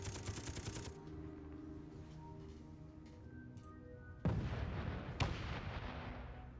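Gunfire striking a ship's hull in the space-building video game Space Engineers, a steady rumbling barrage with faint tones, then two sharp heavy impacts that ring out, no talking.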